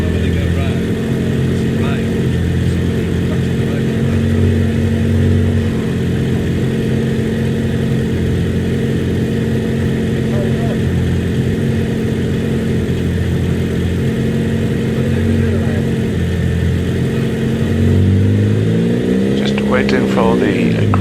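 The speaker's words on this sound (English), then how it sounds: "as Martin Ferris sits on the start line in that beautiful, lovely liveried Renault Sport liveried Renault 5 Turbo 2." Renault 5 Turbo 2 rally car in Renault Sport livery sitting on a hillclimb start line, its engine idling steadily and close by with a brief rise near the end, while a commentator talks over it throughout.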